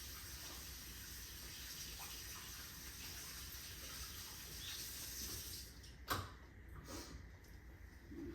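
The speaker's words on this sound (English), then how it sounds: "let me go wash my hands real quick" Water from a tap running steadily into a sink while hands are washed, a faint continuous hiss with a soft clunk and splashing near the end.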